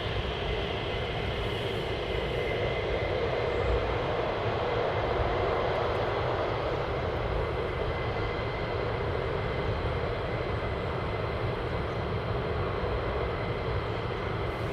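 A military jet takes off at RAF Lakenheath, its engine roar a loud, continuous broadband blast that holds steady for the whole stretch with no talking.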